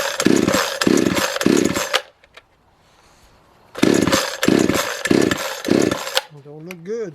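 A Chinese X-Bull 52 cc chainsaw engine, its starter just repaired, roars through revving bursts for about two seconds, falls quiet, then runs loud again in pulsing surges before cutting out, with a brief voice at the end.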